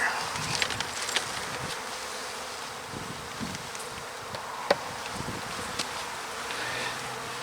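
Honey bees buzz steadily around a hive frame during an inspection, a dense close drone with occasional faint knocks and handling noises, no talking.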